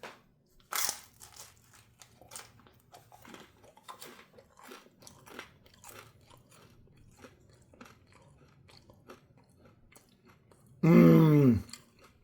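Crunchy bites into the crust of a Roberta's Margherita pizza, an oiled-bottom dough, with scattered soft chewing clicks up close and one loud crunching burst near the end.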